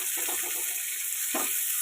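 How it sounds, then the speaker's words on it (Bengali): Capsicum and green chili fry in a pan with a loud, steady sizzle. A couple of soft stirring scrapes and shuffles sit on top of the hiss. "ভালো করে ভেজে নেব।"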